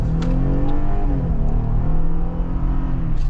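A 2023 Jeep Wrangler Rubicon with a 3.6-liter V6 accelerates at full throttle, its engine roaring loud and close with rising harmonic tones, a continuous strained drone with no speech.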